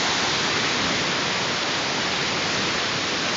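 Floodwater runs over a street along Effingham St. in Pelham, producing a steady, loud broadband rush like a waterfall that stays constant throughout with no pauses.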